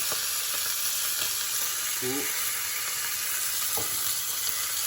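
Ginger fries loudly in a hot pan, a dense continuous sizzle with a couple of brief utensil scrapes.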